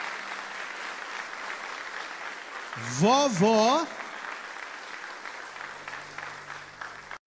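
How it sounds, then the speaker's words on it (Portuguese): Congregation applause for the grandmothers at a church service, a steady crowd clapping from start to finish while a voice briefly speaks over it midway. "Vamos aplaudir as vovós?"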